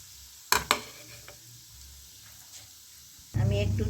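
Cabbage pakoda in hot oil, the pan shaken to coat them: a couple of sharp clatters, a low hiss, then a louder burst of bubbling fry toward the end.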